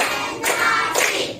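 A class claps together in a short burst, a few broad, bright hand claps blending into a brief dense patter with no voices over it.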